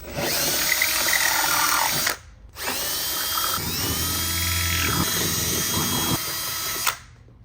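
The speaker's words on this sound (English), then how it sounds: "then you're going to drill your first hole" A power drill whirs loudly and continuously, stopping briefly once before spinning up again, its pitch shifting as it bores through the metal of a van to fit rock sliders.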